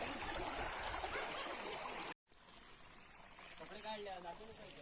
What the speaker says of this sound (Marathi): नदी बघा